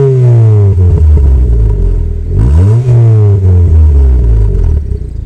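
A Mitsubishi Xpander with an aftermarket exhaust, the engine revving up and down in a few loud blips close by, with a deep, slightly raspy exhaust note that swells and falls back to idle.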